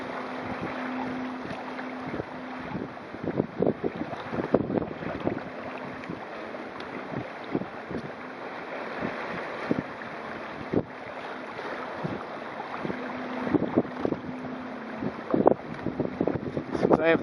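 Wind gusts rush and buffet across a sailing kayak on open water during the 2012 Turkey Paddle, a steady roar with louder surges and occasional knocks and splashes near the microphone.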